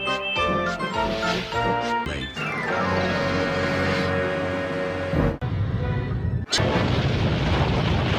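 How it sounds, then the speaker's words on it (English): Thomas and Friends model trucks bang hard into buffers: rattling clanks give way to a heavy, booming crash, followed by two further loud impacts under a sustained musical drone. "He banged the trucks hard into the buffers"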